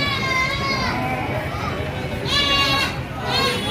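Sheep and goats bleat at a busy livestock market in Gangadhara, Telangana, several wavering cries overlapping nearby amid crowd bustle and someone talking.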